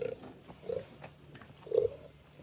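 A native pig, short and pregnant, grunts low and soft several times, with short grunts spaced irregularly over steady background noise.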